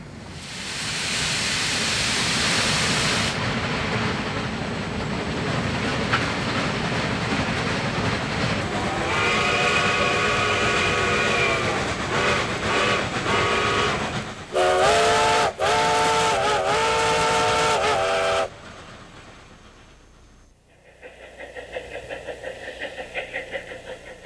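A steam locomotive labors loudly up a steep 4% grade near Chama, New Mexico, with a constant roar and chuffing, its whistle sounding in several long blasts before the noise fades off.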